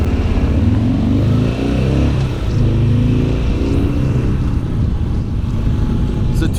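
A 2009 Harley-Davidson Sportster XR1200 motorcycle engine runs close and loud, a steady low throbbing rumble throughout with slight shifts in pitch.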